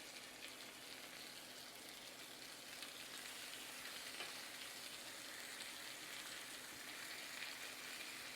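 Herb-infused lamb chops sizzle in a frying pan, giving a steady, faint, hissing fry that stays even throughout with no voices.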